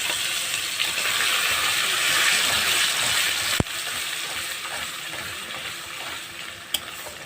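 Water poured off blended ghetkol leaf paste in a wok while cooking makes a continuous close hissing, sizzling wash, broken by a sharp click midway and a faint tap near the end.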